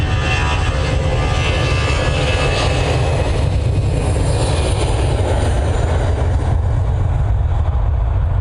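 An EasyJet aircraft at Manchester Airport produces a loud, steady jet engine roar with a broad rumble that holds evenly throughout, as if passing fairly close.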